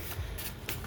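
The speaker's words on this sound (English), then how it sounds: "just trying to shuffle" Playing cards being shuffled, a brief soft riffle with a couple of quick flutters, close and quiet.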